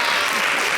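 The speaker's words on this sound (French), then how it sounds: "ils vont applaudir" Studio audience on a Quebec television variety show applauding, a dense, steady wash of many hands clapping throughout, fairly loud and close with no pauses.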